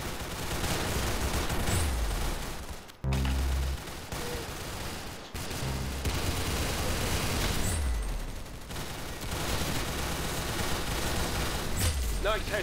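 Rapid gunfire crackles in a shooting video game, loud bursts and volleys packed closely together with a couple of brief gaps, mixed with game effects and a voice talking.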